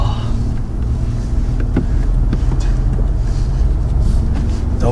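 A 430 bhp Mercedes CLA45 AMG driving off, heard from close by as a constant loud roar of engine and wind that barely varies over the few seconds.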